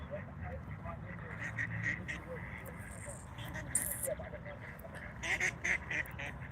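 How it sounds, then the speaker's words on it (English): Ducks quacking at a waterside walk on a sunny day, several sharp calls bursting out in a flurry near the end over steady outdoor ambience, with people talking throughout. "Ooh, ducks are kicking off."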